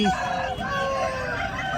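A rooster at a country chicken market in Nallapadu, Guntur, gives one drawn-out crow, fairly close and moderately loud, over a low murmur of market noise and faint voices.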